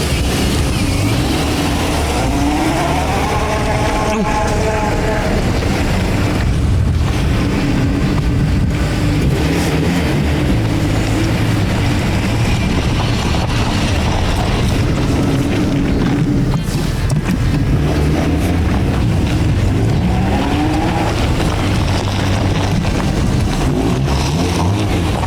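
An old car of unknown make, started with its first key, its engine running and revving loudly and continuously up close, with heavy wind buffeting the microphone throughout and no speech.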